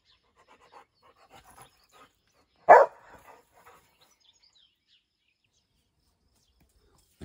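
A single sharp dog bark stands out from near silence, preceded and followed by faint soft rustles and breathing sounds.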